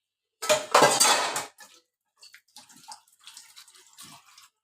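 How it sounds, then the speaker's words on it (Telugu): Dishes being washed in a home kitchen: running tap water gushes loudly at first, then pots and cutlery clink and clatter in short scattered bursts. "కొంచెము గిన్నెలు అయితే ఉన్నాయి అవైతే క్లీన్ చేయాలి"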